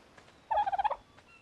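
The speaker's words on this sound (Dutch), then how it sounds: "Oh, er lopen kippen of niet bij jou?" Poultry in the video game ARK gives a short, loud burst of rapid gobbling, about six quick pulses in under half a second, standing alone against quiet background.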